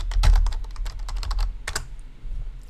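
Typing on a computer keyboard, with a quick burst of close key clicks followed by a few scattered taps.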